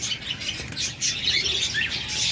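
Budgerigars and lovebirds chirp and tweet in a thick, continuous flock chatter at a bird sale, with occasional wing flutters and no voices.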